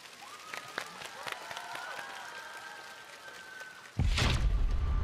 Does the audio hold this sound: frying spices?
no